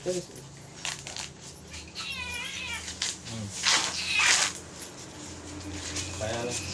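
A cat meows several times at close range amid rustling and handling noises, with a person speaking briefly in Marathi in between.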